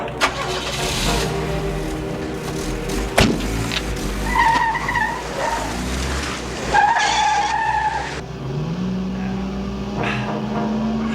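A car skids with tires squealing amid a tense roadside scuffle in a 1988 spy thriller, engine revving and rubber screeching over rumbling traffic, with brief shouted voices and a rising engine whine at the end.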